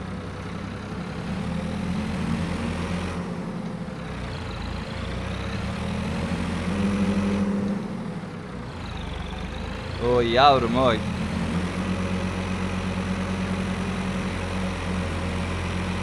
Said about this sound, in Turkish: Gerçekten çok başarılı bir traktör